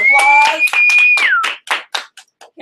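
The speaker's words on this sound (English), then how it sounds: "For a round of applause." A short burst of clapping from a sales training meeting audience, loud and close, breaking into scattered individual claps, with a sustained whistle-like tone sliding down over the start.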